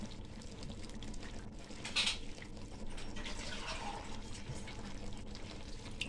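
Water pours steadily and quietly into a pot, a soft continuous splashing with a slight brighter burst near the middle.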